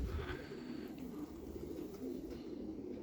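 Slightly hungry pigeons cooing softly near a loft, a faint continuous murmur of low calls with distant background noise and no voices.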